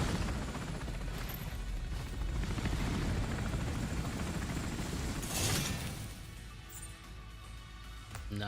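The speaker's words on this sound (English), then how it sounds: "I don't want to bore you guys watching the helicopter take off 20 times." Video game helicopter lifting off, a loud continuous rotor whir and engine roar that surges near the middle, then thins into quieter ambience.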